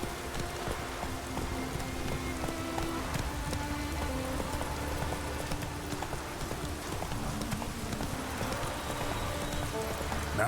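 Hooves of Roach, a horse in a video game, clip-clopping steadily on the ground in the rain, with a constant patter of rainfall around the rhythmic footfalls.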